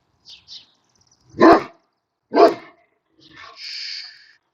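A dog lets out two loud, close barks about a second apart, preceded by a couple of faint high chirps and followed by a softer whining yip at the end.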